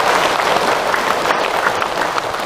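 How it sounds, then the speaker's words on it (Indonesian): An audience at an Islamic religious lecture bursts into sustained applause, dense clapping steady and loud throughout with no pause. "Tepuk tangan buat teman-teman."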